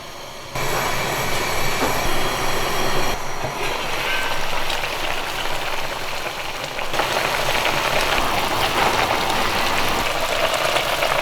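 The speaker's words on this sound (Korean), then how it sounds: "대파를 넣고 보글보글 한 2분 정도만 끓여주면 되겠습니다" Kimchi stew with pork belly and green onion bubbles steadily under a closed lid, a continuous loud, rushing simmer with a brief dip partway through.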